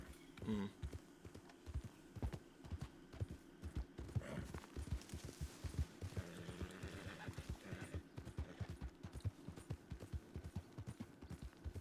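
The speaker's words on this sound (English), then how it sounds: "Can't you hear the horse wheezing?" In a video game, hooves clop in a steady rhythm while a horse snorts and whinnies, with its heavy wheezing breathing mixed in throughout.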